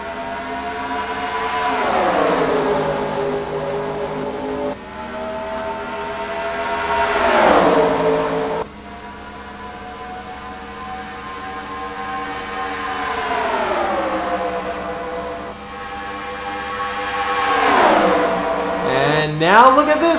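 Engines in a racing video game rise and fall in repeated pitch sweeps as stock cars accelerate at Homestead-Miami, loud and continuous with shifts and passing cars.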